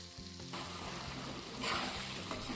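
Mutton curry gravy in a pan sizzles and crackles steadily as fried ingredients are stirred in, a close, continuous frying hiss that swells briefly midway.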